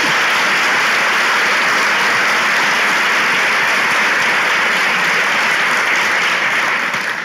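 A studio audience at a comedy relationship-test show bursts into loud, close, continuous applause that stays dense and uniform from start to finish with no speech over it.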